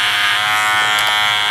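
An electric hair clipper buzzes steadily and close up while cutting a low V-shaped fade, a constant bright hum with slight changes in tone as it moves through the hair.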